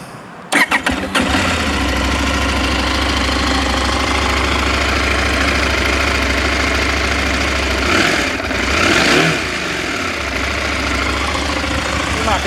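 A 2021 KTM 890 Adventure motorcycle cranks with a few quick starter chirps, catches and settles into a steady close idle, then gets two brief blips of the throttle before falling back.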